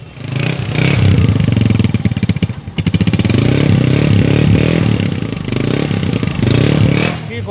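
A 2007 Honda 125 motorcycle engine runs close by, loud and throaty with repeated throttle blips and revs that dip and surge, plus some mechanical clatter.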